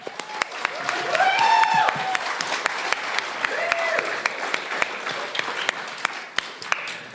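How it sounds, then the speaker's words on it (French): Steady applause from a crowd at a live show in a community recreation centre in Kapuskasing fills the room, continuous clapping with a few whoops and voices rising over it. "Ça mérite comme une grosse main d'applaudissements."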